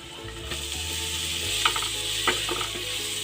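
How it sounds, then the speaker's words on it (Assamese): Chopped banana flower tipped into a hot pan with turmeric, frying and being stirred, with irregular scraping, clattering stirs over a steady low sizzle, close and fairly loud. "এতিয়া ইয়াত কলডিলখিনি দি লম।"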